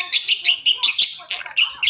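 A contented hairless pet parrot makes a quick string of bright, chirping calls in an even rhythm, close and moderately loud, with a short pause before a few more.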